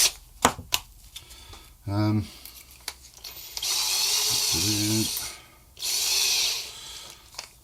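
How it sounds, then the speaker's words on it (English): Bursts of a power drill whirring as it drills pilot holes in a Squier electric guitar, short and then longer sustained runs, with clicks and handling noises between them, close up. "Just going to drill some little pilot holes."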